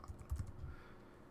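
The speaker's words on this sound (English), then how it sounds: "just type in who you might be featuring on your show" A brief burst of keystrokes on a computer keyboard while typing into a search bar, quiet and close.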